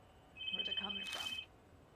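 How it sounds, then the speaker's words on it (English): Telephone ringing in the Secrets of Kubitarou video game, a steady electronic trill with a sustained high tone lasting about a second, heard at moderate level alongside some muffled voice-like sound. "Oh, I hear the ringing."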